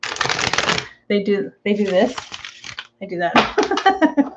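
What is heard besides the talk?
shuffling a deck of oracle cards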